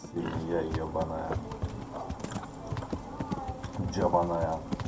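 A horse galloping in the video game Kingdom Come: Deliverance 2, with steady clip-clop hoofbeats and an occasional whinny, under someone talking over it.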